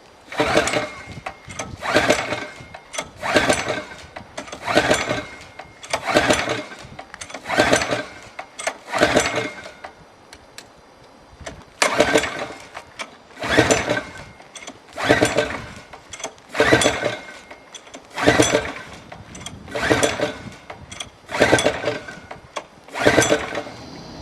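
A KT100 kart engine fires up and runs with a rough, rhythmic pulsing note that swells and fades in regular bursts about once a second, with a brief lull midway before resuming.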